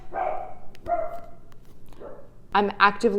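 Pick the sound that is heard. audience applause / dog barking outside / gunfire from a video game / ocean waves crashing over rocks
dog barking outside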